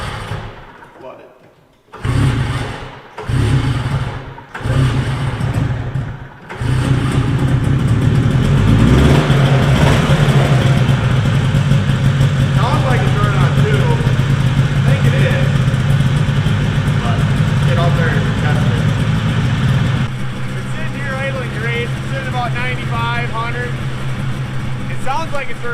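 A 250 Elan engine runs after being flooded, sputtering through a few short bursts and then holding a loud, steady, rough idle for a long stretch, with a person talking over it.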